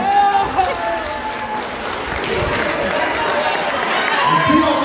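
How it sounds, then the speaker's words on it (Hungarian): An audience at a church charity ball applauds a raffle winner with loud, sustained clapping mixed with crowd chatter and background music, as voices speak over the noise. "egy nagy tapsot"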